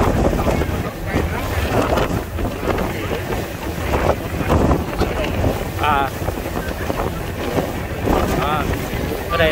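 Strong wind buffets the microphone on a ferry deck crossing Galveston Bay, a constant loud roar with engine and water noise beneath and people talking throughout.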